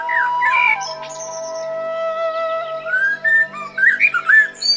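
A cartoon character mimics a sparrow's call with bright whistled chirps and warbles, a steady tone running underneath, then quick chirps near the close.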